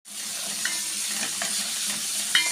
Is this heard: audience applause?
no